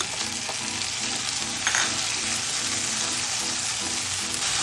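Three chopped tomatoes frying in a pan for adobong pusit with pork kasim, a steady hiss of sizzling oil with a soft, periodic stirring rhythm underneath, close and continuous.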